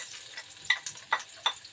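Chopped onion sizzles in a pan for meatless pancit sotanghon, a soft steady frying hiss broken by a few sharp crackles and pops, with no talking.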